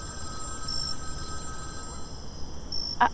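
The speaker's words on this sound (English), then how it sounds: "That is my telephone ringing, isn't it?" A telephone rings in a radio drama, a faint electronic bell tone sounding in short bursts against a quiet, hissy background.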